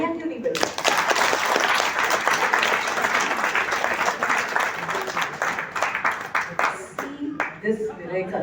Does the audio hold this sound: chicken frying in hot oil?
no